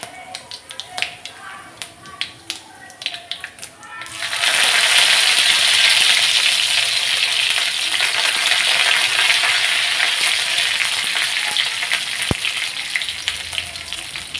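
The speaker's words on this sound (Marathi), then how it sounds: "मोहरी चांगली तडतडली की जिरे घालायचे।" Mustard seeds and cumin crackle in hot oil in an iron pan, a dense, loud sizzle that bursts in after a few seconds of quieter kitchen sounds and then keeps crackling steadily to the end.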